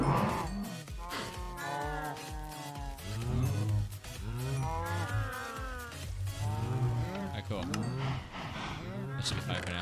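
Cows low repeatedly in a Minecraft-style mining game, drawn-out moos overlapping one another at close range while a person talks over them.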